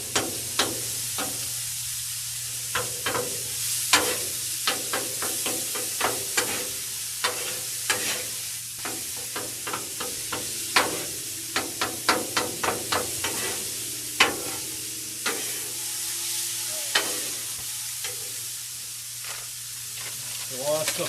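Mushrooms cooking in ghee on a Blackstone griddle give a continuous sizzle, broken by repeated sharp spatula scrapes and taps in quick clusters, close and fairly loud, with a voice talking at times.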